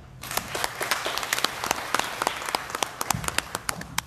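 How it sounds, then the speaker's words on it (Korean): A seated audience at a forestry business owners' association lecture breaks into a few seconds of sustained applause, with dense, overlapping claps that grow sharper toward the end. "다시 한번 큰 박수 부탁드립니다"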